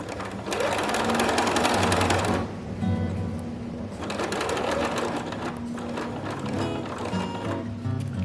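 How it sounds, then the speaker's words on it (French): A sewing machine stitches a dress seam and runs a backstitch to lock it, giving two loud, steady whirring runs of rapid needle strokes with a short pause between them. "Je fais un point d'arrêt pour solidifier ma couture."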